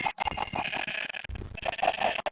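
Minecraft chickens cluck in a busy, overlapping stream of short calls, close and fairly loud, with a few brief gaps.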